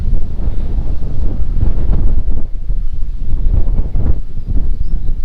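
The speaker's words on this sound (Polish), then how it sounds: "Tutaj dalej wieje." Strong wind blows at the top of a clifftop castle in Cornwall, roaring steadily and buffeting the microphone throughout, loud and close with no voices.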